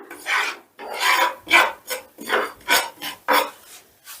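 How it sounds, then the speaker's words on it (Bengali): A spatula scrapes repeatedly through paneer and spice masala in a pan over a low gas flame while making paneer do pyaza, giving about nine close, rhythmic rasping strokes with no talking. "এবার সমস্তটা একটু নাড়াচাড়া করে নিচ্ছি"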